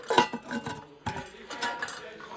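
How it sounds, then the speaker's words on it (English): A metal three-piece 1916 French army mess kit handled up close, several light clanks and scrapes of the tin pieces knocking together in uneven bursts, fairly quiet. "Moving on, we have your 3-piece mess kit."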